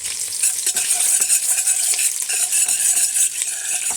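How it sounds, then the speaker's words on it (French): Onion frying in oil for a vegetable soup, a loud and continuous close-up sizzle with dense crackling and some stirring texture. "Donc, tu fais l'oignon dans l'huile."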